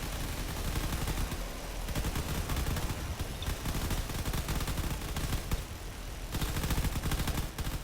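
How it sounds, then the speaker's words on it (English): Ships fire cannons in the video game Drone Wars during a battle around a carrier. A dense, continuous barrage of rapid booming shots runs unbroken and loud through the whole stretch. "The cannon fire from the other ships is definitely not helping out."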